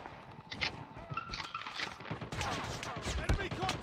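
The Shorty shotgun fires in Call of Duty Mobile gameplay: quiet, scattered bursts of shots and impacts mixed with in-game footsteps and faint voices.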